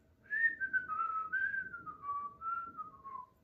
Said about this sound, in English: That's actually me whistling